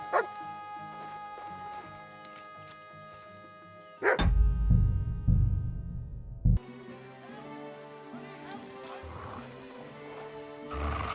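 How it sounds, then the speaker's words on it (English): A dog barks in the medieval open world of Kingdom Come Deliverance 2, a loud burst of several rough barks in quick succession over game ambience and music, then fading back to the quieter background. "No one wants to hear your barking."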